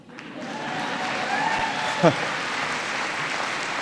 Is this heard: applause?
yes